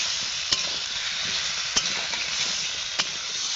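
Large potato pieces stir-fry with spice masala in a pan for a rohu fish curry. An even, close sizzle hisses throughout, broken by a few sharp spatula clicks against the pan.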